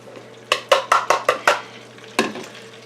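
Utensil clinking and scraping in a pan as half a cup of flour is sprinkled into melted butter for mac and cheese, a quick run of sharp taps followed by one more, close and clear.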